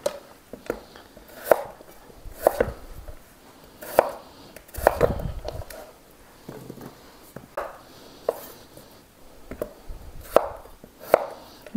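A sharp knife chopping yellow gold potatoes on a cutting board, with crisp, irregular knocks spaced about a second apart, close and clear, plus light scraping between the cuts.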